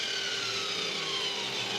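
A saw cutting through a wooden fence post gives a steady, continuous droning whine, even and unbroken for the short stretch, moderately loud and close.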